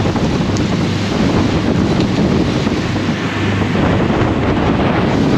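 Small sailing boat pushing into lumpy oncoming waves on open sea, with constant loud wind buffeting the microphone and a steady wash of water and spray throughout.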